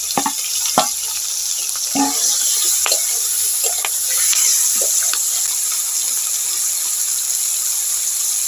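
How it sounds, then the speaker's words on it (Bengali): Giant river prawns fry in hot oil, a bright steady sizzle broken by scattered clicks and clinks of a utensil in the pan. "তেলটা গরম হয়ে গেছে, এবার আমি চিংড়ি মাছগুলো ভেজে নেব।"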